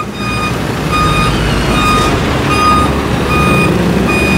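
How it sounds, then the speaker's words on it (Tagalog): A large truck backing up during a roadside clearing operation, its reversing alarm beeping in a steady repeated rhythm over a loud, close diesel engine rumble. "Pinapasok na sa loob yung isang truck."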